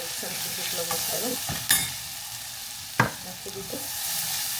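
A teaspoon of spice masala sizzles in a pan of oil with cumin, asafoetida, ginger and green chili over low heat for Rajasthani gatte ki sabzi. A steady frying hiss runs throughout, broken by two sharp spoon clacks as it is stirred.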